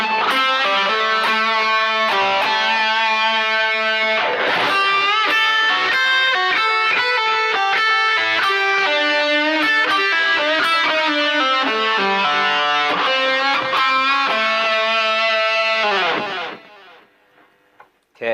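A fast electric guitar solo phrase in A, played alone with a distorted lead tone: dense runs of quick notes for about sixteen seconds, then a sudden stop into near silence.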